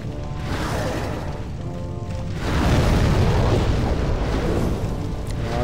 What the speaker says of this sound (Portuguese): O que mata dele são essas explosões